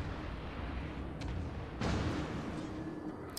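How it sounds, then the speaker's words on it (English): The battleship Nagato's big guns fire in a naval combat game, one heavy booming blast landing midway through over a constant low roar of engine and sea noise. "This is the pure power of Nagato's guns."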